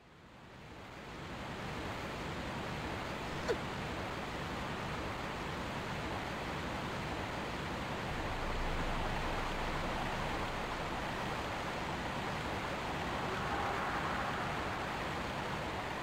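A waterfall in Tomb Raider 1 Remastered rushes as a steady, broadband roar that fades in and then holds evenly, with a brief click partway through and no talking.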